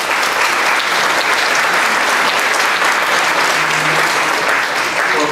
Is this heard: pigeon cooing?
no